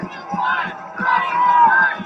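A crowd heard through a played news clip chants and shouts in unison, a loud rhythmic roar of many voices with steady beats.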